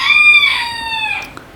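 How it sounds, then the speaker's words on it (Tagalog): A rooster crows once nearby, a loud drawn-out cock-a-doodle-doo that rings clearly and fades at the end, with no other sounds around it. "sumingit yung manok"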